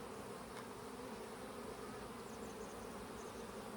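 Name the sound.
honey bees buzzing on a hive frame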